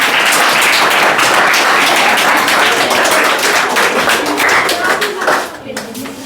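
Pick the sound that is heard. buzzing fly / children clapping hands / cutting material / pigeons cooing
children clapping hands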